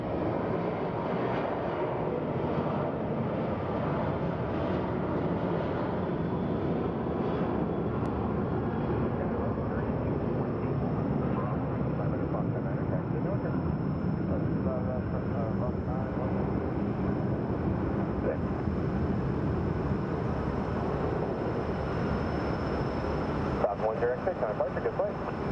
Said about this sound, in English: And in the background, that is our Chicago-bound flight.